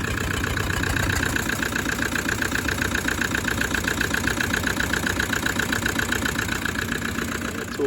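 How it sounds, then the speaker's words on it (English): Car engine with a cracked piston idling steadily, its mid-pitched running sound carrying a continuous rhythmic knock throughout, loud and close, with no talk. "And everybody knows that's a cracked piston."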